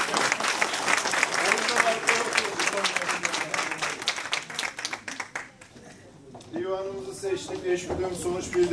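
A crowd breaks into loud, dense applause that fades after several seconds, followed by a voice speaking over the hall.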